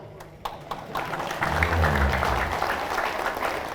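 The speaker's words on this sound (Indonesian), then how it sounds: "Nah, baru tepuk tangan." Applause from an audience at an Islamic religious lecture in Pakning, Bengkalis, a dense patter of clapping that swells in the middle, with a low rumble and a few sharp taps at the start.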